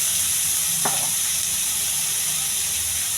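Onions and curry leaves fry in hot oil in a pan, a steady, bright sizzle with a brief sharp crackle as something is stirred in, close and alone without talk.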